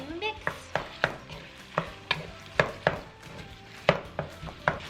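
Seasoned ingredients with salt and pepper being mixed in a bowl, sounding as a series of sharp, fairly regular clacks and scrapes of a utensil against the container, each spaced about half a second apart, with no talking.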